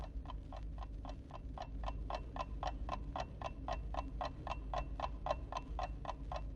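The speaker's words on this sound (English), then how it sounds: "the loud ticking of the old clock over the cash register," An old clock over a cash register ticks loudly, steadily and evenly, each tick crisp and regular, over a low background hum in an otherwise silent shop.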